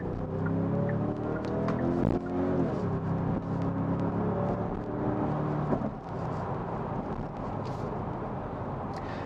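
Genesis G70 Shooting Brake 2.0T, a 252-horsepower turbocharged car, accelerating in sports mode with active sound engaged, heard from inside the cabin as a steady, loud engine drone with rising harmonic tones and no talk.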